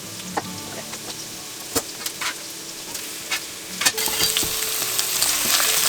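Mushrooms and onions frying in a skillet: a soft steady sizzle punctuated by sharp clicks and taps of a utensil against the pan, growing louder and hissier toward the end, no talking.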